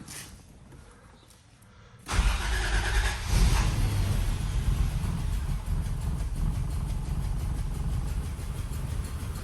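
A 1994 Toyota's engine starts abruptly after a quiet stretch, then settles into a steady, loud idle rumble that continues throughout; the car had sat unused for eight years and has a newly fitted fuel pump.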